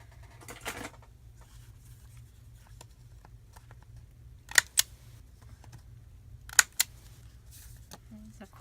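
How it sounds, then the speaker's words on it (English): A handheld corner rounder punches through paper corners, two crisp pairs of sharp clicks spaced a couple of seconds apart, close and distinct over a quiet low hum, with faint rustling before them. "There's a corner rounder."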